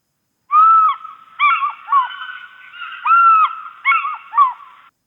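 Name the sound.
African fish eagle call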